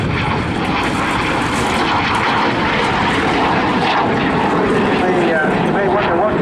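BAC Strikemaster Mk82A jet aircraft at the Eastbourne airshow, a loud, steady, roaring engine rush that fills the whole clip, with a voice talking over it.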